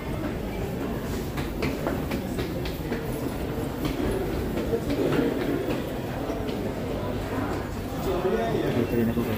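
A moving train rumbles steadily with faint clicking and rattling of the carriages, while a person talks over the continuous noise.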